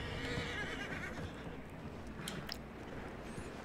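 A horse in Red Dead Redemption 2 gives a soft, fairly distant whinny and snort, with faint hoof shuffles and low ambient game sound around it.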